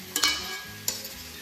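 Green papaya (amita) pieces frying in a pan, with two brief scraping stirs of a spatula over a soft, steady sizzle; nobody speaks.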